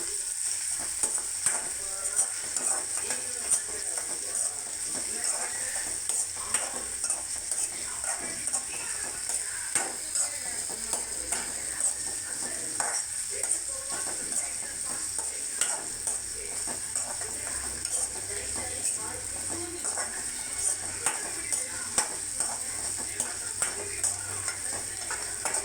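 Onions with salt sizzle and fry in a pan for a kohlrabi curry, a steady close crackle with occasional scrapes and stirring clinks running evenly throughout, no voices.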